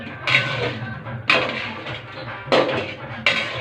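Food being stirred in a pot during home cooking, the spoon scraping and knocking against the metal in four separate bursts at uneven intervals over a low steady background, close by, with no talk.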